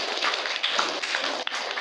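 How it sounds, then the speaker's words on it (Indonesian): An audience of new university students at a workshop in Bogor claps together in a dense, even burst of applause that holds for the whole stretch at moderate volume. "tepuk tangan dulu semuanya berkompak ya, tepuk tangan ya"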